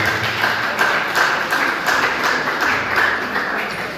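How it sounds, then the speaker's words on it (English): An audience at a talk on leveraging opportunities and internships claps steadily, dense overlapping handclaps forming a sustained wash of applause at a moderate distance. "Please, let's give a round of applause for"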